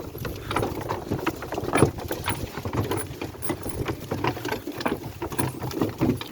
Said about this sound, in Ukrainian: Але в нас дощ починає трохи.